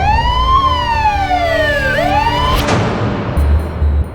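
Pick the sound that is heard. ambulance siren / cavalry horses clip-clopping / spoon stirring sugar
ambulance siren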